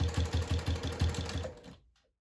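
A sewing machine stitches through a minky blanket in a close, rhythmic chug of about eight rapid beats. The sound slows and stops into silence.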